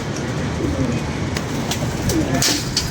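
Pigeons coo steadily at close range, soft low rolling calls repeating throughout over a constant background hum.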